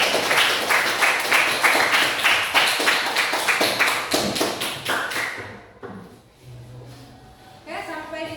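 Applause from a class audience at the close of a lesson, a burst of dense clapping that thins out and fades after about five seconds, followed by quieter scattered sounds and faint voices.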